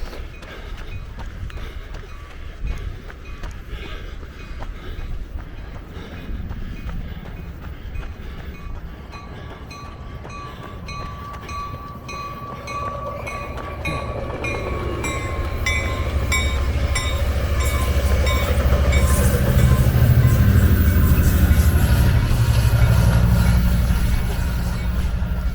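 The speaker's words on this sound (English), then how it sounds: "here comes a train." A train passes near the beach at Del Mar, heard during a run: clattering wheels and a rising rumble grow steadily louder and closer, peaking in a heavy, roaring pass near the end.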